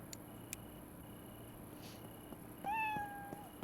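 A cat meows once in Internet Cafe Simulator 2, a short rising-falling tonal call after a stretch of quiet game ambience with faint clicks and a soft hum.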